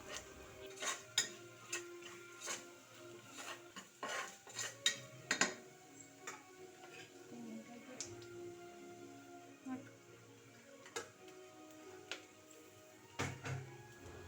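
Coriander and chili powder frying in a pan for a ridge gourd and lentil stew, with repeated sharp clinks and scrapes of a spoon against metal cookware spread across the stretch, moderately close and without talk.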